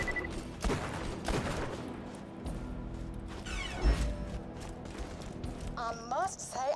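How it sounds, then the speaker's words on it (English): Gunfire aimed at the player in Borderlands 2: scattered sharp shots and bursts, with a louder impact thud near the middle, over game ambience, electronic chirps and occasional talk. "Stop firing at me, too."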